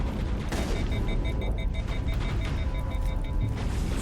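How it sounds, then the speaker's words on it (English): Shotgun fire in the video game Mass Effect, heard as a burst of blasts under a dense, noisy game mix with a repeating electronic beeping tone layered on top, with no speech. "That's a shotgun."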